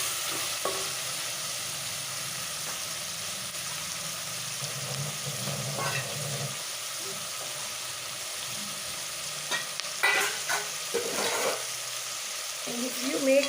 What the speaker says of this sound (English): into that I'll put in my tomatoes also that we chopped up. Now let this all fry really well